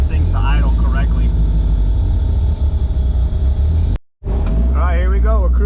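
A Toyota TE27 with a turbocharged 3SGTE engine and big cams rumbles loudly and steadily at low speed, with someone talking over it throughout and a brief dropout near the end.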